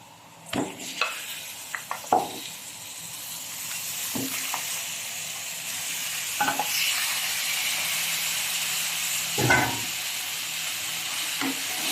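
Lamb fries in a pan for kabsa while being stirred. A steady sizzle sits under scattered scraping knocks from the spoon against the pan at irregular intervals.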